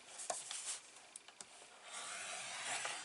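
Scoring tool drawn along a guideline on card for an album cover, producing quiet scraping strokes with a few sharp ticks, followed by a longer steady rub, faint and close.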